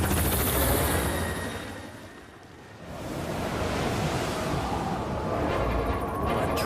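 Model railway toy helicopter scene set in snowy winter weather: a steady, loud rushing roar like rotor wash and wind, dipping briefly in the middle before swelling back, with no talking.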